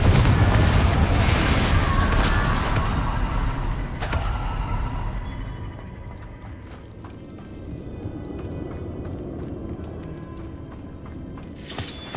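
A Confringo fire-blast spell in Hogwarts Legacy bursts loudly, a broad explosive roar that fades over several seconds into crackling debris and scattered impacts.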